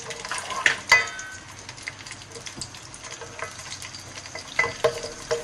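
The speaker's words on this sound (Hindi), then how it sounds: "प्याज डालेंगे। अब इसे भुना देंगे।" Sliced onions frying in oil and ghee in a pan crackle and sizzle steadily up close, with occasional louder spits and stirring clinks.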